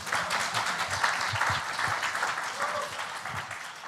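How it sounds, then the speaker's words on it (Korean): Conference audience applauding steadily as a speaker takes the stage at a startup ecosystem event, dense sustained clapping throughout with a faint murmur of voices underneath. "박수 쳐주셔야 된것 같습니다"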